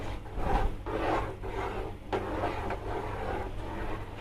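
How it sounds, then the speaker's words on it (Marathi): Milk with milk powder is stirred continuously in a pan for a homemade ice cream or kulfi base, making a steady, close scraping and rubbing sound that runs without a break and with no talk. "कंटिन्यू हलवत राहायचं आहे, त्याच्या गुठळ्या होता कामा नये"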